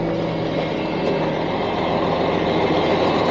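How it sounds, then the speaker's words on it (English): A loaded trailer being dragged onto a truck bed, a loud continuous grinding rumble with heavy engine drone, steady and close throughout. "it's just dragging that loaded trailer"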